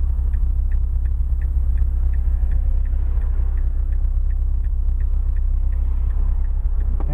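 A 2010 Mazda 3 GT with the 2.5-litre engine idles steadily, a low, even rumble heard from inside the cabin with a faint rhythmic ticking over it and no talk.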